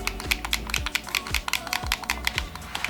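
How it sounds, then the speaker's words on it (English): Xbox 360 controller bumpers clicked by fingertips, a quick series of crisp plastic clicks in an uneven rhythm, close and fairly loud with no talking. "you could use your fingertips to click the bumpers"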